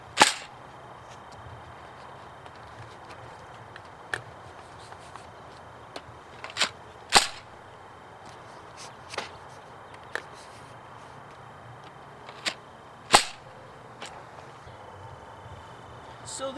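Nerf Blazin' Bow shooting foam darts at an upward angle, heard as sharp, isolated snapping releases spaced several seconds apart over a quiet room background, with a few smaller clicks between shots.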